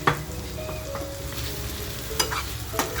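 Stuffed brinjals with spiced dried shrimp filling sizzle steadily in a pan, a continuous fry with a few sharp clicks and taps as pieces are set down.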